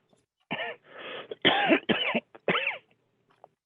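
A person coughs several times in quick succession, harsh and close, with a throat-clearing rasp between bursts and no talking.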